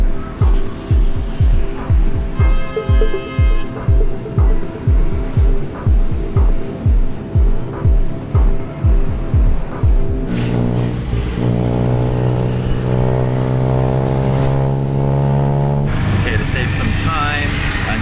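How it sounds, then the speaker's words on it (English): A tuk-tuk carries a passenger in the open back through Bangkok traffic, its small engine chugging in rapid rhythmic pulses before revving up into a steady loud drone, with street noise around and brief talk. "I'm in the back of a tuk-tuk, and we're gonna go to Khao San Road."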